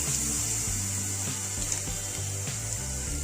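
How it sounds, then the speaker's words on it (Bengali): A small amount of water is poured into a pan of frying spices, cumin and ginger-garlic paste for a shrimp, raw banana and potato ghonto, giving a steady watery rush under background music. "অল্প পরিমাণে জল দেবো"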